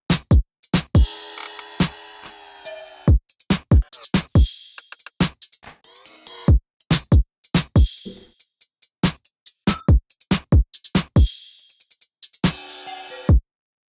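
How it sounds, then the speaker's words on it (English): Programmed drum loop from an FL Studio beat, with punchy kicks, snappy hits and sliding, cut-off cymbals in a quick, choppy rhythm, played alone and up close. "That's the drum loop."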